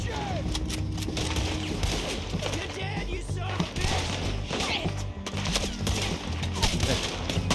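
Rapid gunfire crackles through a gunfight in Red Dead Redemption 2, with bursts of shots, hoofbeats and game ambience, while players talk over it.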